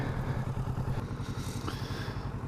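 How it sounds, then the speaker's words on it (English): A 2019 Kawasaki Z650 motorcycle engine runs with a steady, throbbing mid-pitched rumble, close and continuous, with faint mechanical clatter and no talking. "But it sounds great, this engine too."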